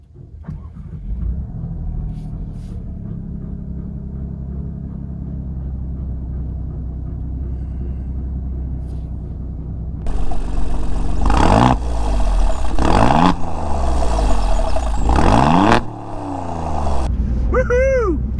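An Alfa Romeo Giulia Quadrifoglio rumbles at a low, steady idle before the engine surges into loud revs that rise and fall repeatedly as the car accelerates through the gears, ending in a brief higher whine.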